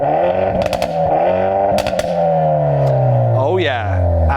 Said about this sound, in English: Go on, start it up and rev it.